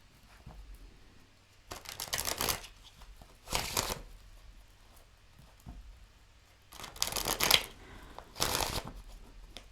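Tarot cards being shuffled in four quick riffling bursts with pauses between them, close and crisp, in an otherwise quiet room.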